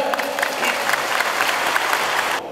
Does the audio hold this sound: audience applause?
yes